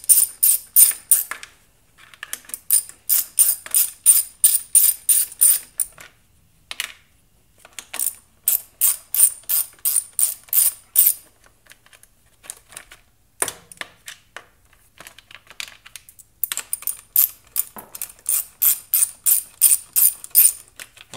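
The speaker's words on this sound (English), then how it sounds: "We're going to do that by taking a quarter inch ratchet extension and a 7mm socket." A quarter-inch ratchet on an extension with a 7mm socket backs out the screws on a generator's outer cover: rapid bursts of sharp, close ratchet clicking, stopping and starting repeatedly with short pauses between strokes.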